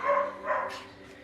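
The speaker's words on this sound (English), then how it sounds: "Don't mind the barking" A dog on a farm gives two short, close barks in quick succession, fairly loud and alone with no talk over them.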